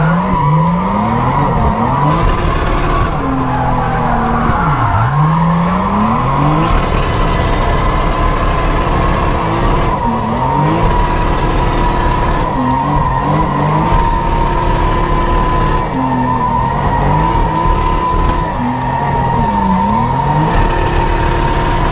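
A Nissan 350Z drift car warming its tires, its engine revving loud and constant while the tires screech in repeated long squeals as it circles, no talking.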